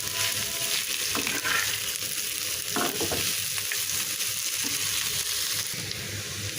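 Bitter gourd frying in a little oil in a pan, a steady soft sizzle with occasional stirring scrapes and crunches, close and fairly quiet, with no talk.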